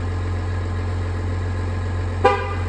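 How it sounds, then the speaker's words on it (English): A single short car horn toot from a GMC Yukon rises briefly over a steady engine idle hum. "There you go, honks."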